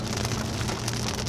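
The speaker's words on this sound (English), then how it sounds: "With the rain dirtying my car" Steady rain falling around a parked car, a dense, even hiss of drops pattering on surfaces that runs unbroken and fairly loud through the short stretch, with no voices.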